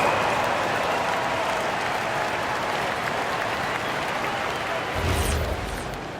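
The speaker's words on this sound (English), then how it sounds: "Fans, please give a big round of applause." Sustained applause from a large arena crowd at a WNBA basketball game, steady and broad, with a brief louder swell near the end before it begins to fade.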